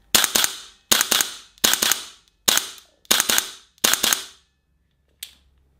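A GBLS DAS GDR 15 airsoft rifle fires six loud, sharp metallic shots at a steady pace, each with a quick double-crack action. A faint final click follows.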